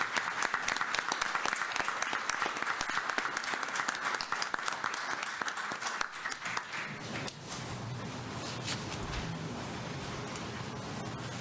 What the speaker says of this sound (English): Let's go ahead and recognize this group with a round of applause.